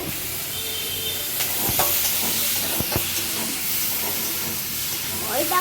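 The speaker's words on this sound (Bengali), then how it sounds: "এই যে আমি এখন শাকটা ভাজা করবো তার জন্য একটু রসুন কাঁচা লঙ্কা আর একটু পেঁয়াজ দিয়ে" Garlic, green chilli and onion fry for greens with a steady sizzling hiss close by, broken by a few clinks and stirring scrapes.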